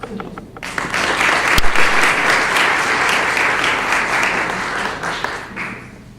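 Sustained applause from a large audience welcoming a speaker at an academic talk, dense steady clapping rising quickly and holding loud for several seconds before tapering off.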